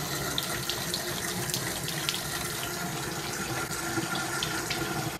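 Water streams steadily from a kitchen faucet into a sink, a continuous close hiss and splash with no voices.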